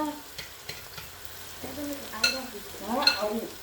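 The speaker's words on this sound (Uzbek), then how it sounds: "Mana go'sht nimalarni chala qovurib oldim." Meat frying in a pan for a festive stew, with steady sizzling under repeated scraping and stirring strokes that build to a louder clatter near the end.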